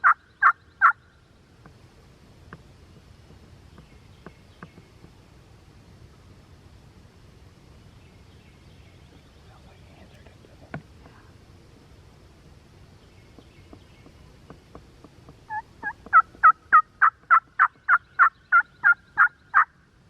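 Wild turkeys gobble during an Osceola turkey hunt, one rapid gobble burst at the start and a longer run of repeated gobbles near the end, loud and fairly close against a quiet outdoor background.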